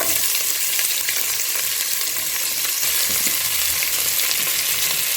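Onions fry loudly and close up in hot oil for Ramadan nombu kanji, making a dense, unbroken sizzle that stays at the same level from start to finish, with no voices.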